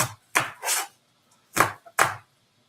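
Knife chopping cleaned, outer-layer-trimmed Brussels sprouts on a board: five crisp close cuts in two uneven groups, loud and alone with brief silence between.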